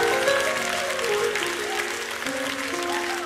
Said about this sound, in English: got a round of applause one more time